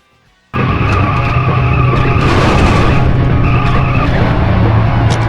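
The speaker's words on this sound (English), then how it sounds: "just boost up and run it right into this red wall, and you will get the super van" Hot Wheels Turbo Racing on the N64, car racing with a boost: after a brief quiet moment, a loud sustained engine roar and tire screech sets in and holds, with synthetic game effects layered on top and no talk.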